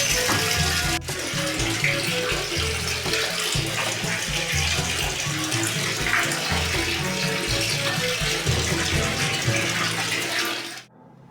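Bathtub filling from a tap with cold water, a loud continuous gushing splash lasting several seconds before cutting off abruptly near the end, with no voices.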